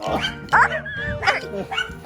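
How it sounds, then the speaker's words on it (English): Small dogs bark and yip in quick bursts nearby, several sharp barks overlapping, with a little background chatter. "Toffee's barking at nothing and Chi-Chi's barking at Toffee"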